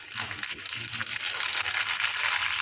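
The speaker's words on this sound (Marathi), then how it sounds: "आता आपण या चटणीला फोडणी देऊन घेऊया।" Curry leaves, mustard seeds, cumin, asafoetida and two red chillies sizzle as they temper in hot oil for a chutney, a dense, steady hiss that holds at even loudness throughout.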